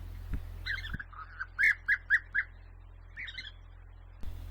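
A brightly coloured, burrow-digging bird calls from the sky with short rolling trills, a cluster of four louder notes in the middle and softer calls around them, over a steady low hum.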